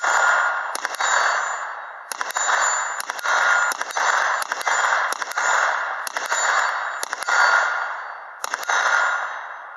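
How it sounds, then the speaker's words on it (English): Shots from a 9mm Hi-Point carbine at an outdoor shooting range ring out in a steady series of sharp, loud reports, each trailing into a long echo, with short gaps between groups. "9mm out of the high point carbine"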